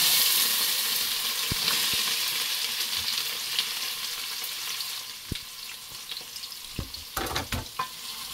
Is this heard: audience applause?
no